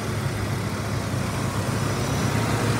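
Engine of a 1996 Ford F-150 XL pickup truck running, a steady, close, loud rumble with no change in pace and no voices.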